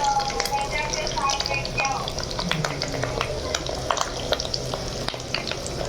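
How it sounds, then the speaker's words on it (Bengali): Fish roe fries in spattering hot oil in a pan, a dense, loud crackle that runs without a break. Stirring clatters over it throughout, and a voice talks faintly underneath. "ভাজা হচ্ছে ডিম"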